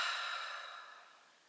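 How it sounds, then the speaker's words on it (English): A single long, soft exhale during a yoga workout, airy and close, fading gradually over a second and a half. "Deep breath in and out, holding it steady for a breath or two more."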